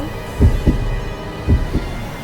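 Heartbeat sound effect from the horror game Spirit Hunter: Death Mark II, two pairs of deep, thumping lub-dub beats about a second apart, close and heavy over a low hum.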